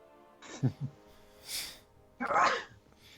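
A person sneezes sharply, twice or so, each burst breathy and abrupt, with a short quiet pause between, close to the listener.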